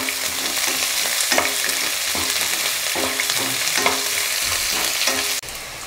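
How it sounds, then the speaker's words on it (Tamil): Small onions sauté in oil in a pan for lemon rice, making a steady close sizzle broken by regular scraping stirs, with no voices, until a sudden drop near the end. "இப்போ வெங்காயம் லைட்டாக வதங்கி சாஃப்ட் ஆனதுக்கப்புறமா காரத்துக்கு தகுந்த மாதிரி காஞ்ச மிளகா போட்டுக்கலாம்"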